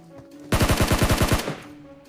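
Automatic fire from a SCAR-L rifle in PUBG Mobile, a loud close burst of about eight rapid shots in even rhythm, cutting off abruptly after roughly a second.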